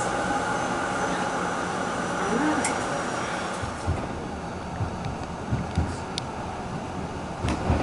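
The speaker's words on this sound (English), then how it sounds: "He drove the tram along the curved track, turning left and headed eastbound for St Kilda Junction." Steady low rumble of a Melbourne tram rolling along curved rails toward St Kilda Junction, with faint metallic clicks and squeaks building toward the end; no voices.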